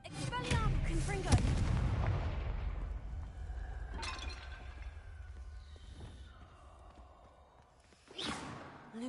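A Confringo spell explodes in Hogwarts Legacy with a heavy booming blast and shattering debris, followed by lingering rumble, a fading whoosh and a second smaller burst near the end.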